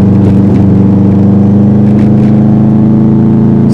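A 2005 Subaru WRX STi engine drones loudly and steadily from inside the car while driving, a constant low rumble holding close with no talk.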